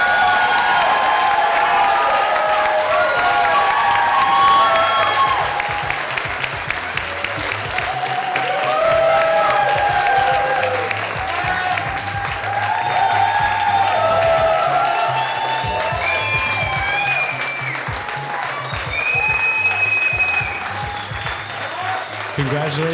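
Sustained applause from a large audience at the 2018 Gateway to College graduation ceremony, steady dense clapping lasting over twenty seconds with crowd cheering and voices mixed in.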